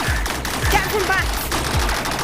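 Gunfire in the video game Rec Room, a quick run of loud, evenly spaced shots about every half second, mixed with overlapping voices and chatter.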